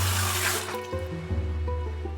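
Running water in a Nancy Drew video game pours in a steady hiss that fades within a second, with soft game music continuing underneath.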